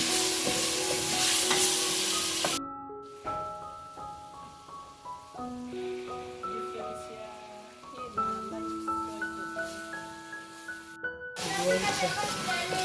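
Duck and tomatoes fry and are stirred over an outdoor village fire; a steady sizzle is plain at the start and end, while music plays over it through the middle.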